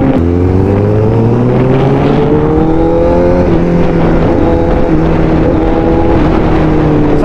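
A Rusi 1000RRR motorcycle engine revs loudly and continuously up close, rising pitch sweeps climbing through gears over a dense, steady roar with no talking.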